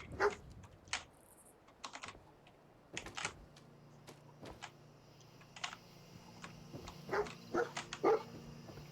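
The dog companion Dogmeat in the Fallout 4 video game, with scattered short barks and whimpers against a quiet backdrop, mixed with intermittent computer keyboard typing clicks.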